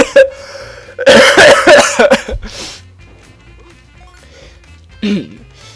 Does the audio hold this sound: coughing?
yes